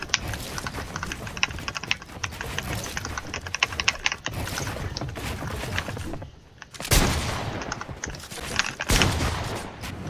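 Automatic gunfire in a video game, dense rapid bursts of sharp clicking shots from close by, broken by short gaps, with a couple of louder blasts near the end.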